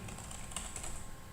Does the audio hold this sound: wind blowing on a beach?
no